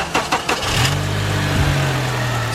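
An Acura TSX engine starts after a power steering pump replacement. The starter cranks in a few quick bursts, then the engine catches with a rise and settles into a steady, fairly quiet idle, close by.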